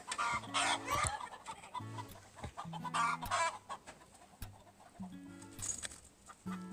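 Chickens clucking inside a chicken house, several birds giving repeated short clucks and squawks in bursts, close and fairly loud, with brief pauses between calls and no talking.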